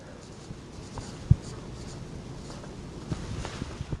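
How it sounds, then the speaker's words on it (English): A marker writes on a board in green, quiet scratchy strokes with a sharp tap partway through, faint and close with no talking. "I'm going to write this in green."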